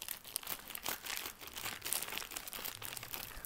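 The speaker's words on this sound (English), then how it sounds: "now let's unwrap the big Poppet. I'll just cut it open from here." Plastic packaging around a large pop it toy is cut open and unwrapped, giving a continuous close crinkling and tearing rustle at low volume, with no talking.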